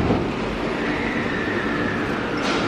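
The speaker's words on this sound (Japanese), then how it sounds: "2番乗り場からも電車発車です。" A JR Kyoto Line local train pulls out of Katsuragawa Station platform 2 toward Kyoto, a steady broadband rumble of wheels and motors that stays loud and even throughout, with a faint high whine near the end.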